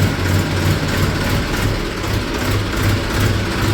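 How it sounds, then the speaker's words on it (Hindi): A tractor engine chugs close by with a steady, throbbing low rumble that holds even and continuous throughout, with no voices over it. "यह ट्रैक्टर आता है"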